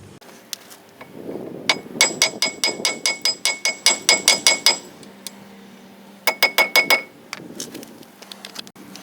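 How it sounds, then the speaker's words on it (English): Hammer pounding a T30 socket onto a front wheel hub during a wheel bearing replacement on an Equinox or Torrent, a fast run of sharp ringing metallic blows followed by a pause and a second short burst, loud and close. "And then I'm going to pound my T30 in there, and it'll be a lot tighter than this."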